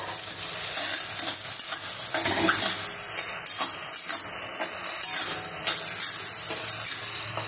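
Ginger paste frying in plenty of oil in a pan, a loud continuous sizzle with steady stirring and scraping throughout, no talking.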